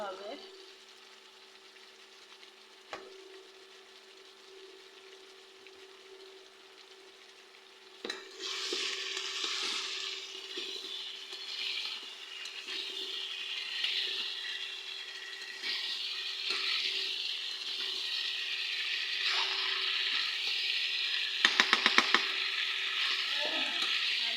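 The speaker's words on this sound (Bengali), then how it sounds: "এবার সবজিগুলো দিয়ে আর একটু ভালো করে কষে নিতে" Vegetables, including taro and Malabar spinach, hit a hot oiled pan and sizzle steadily, the frying growing louder partway through and continuing as a close, constant crackle with a brief clatter near the end.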